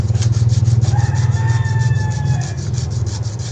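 Steady rhythmic rasping of 100-grit sandpaper rubbed back and forth over wood, close and continuous with quick regular strokes.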